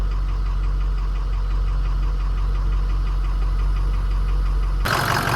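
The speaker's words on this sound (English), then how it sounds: "The way that starter is absolutely freaking horrible." A 2006 6.0 Powerstroke diesel truck's starter cranks the engine with a loud, steady rhythmic churning that runs for about five seconds before cutting off abruptly, close up and without speech.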